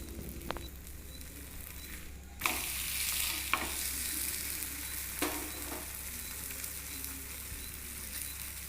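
A paratha fries in ghee on a hot tava griddle with a steady, close sizzle, broken by a few light scrapes and taps.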